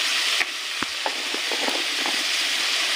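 Boiled elephant foot yam sizzling loudly in a pan while a spatula stirs it, with a few distinct scraping knocks against the pan over a continuous frying hiss and no speech.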